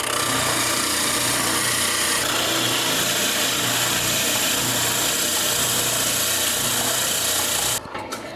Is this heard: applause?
no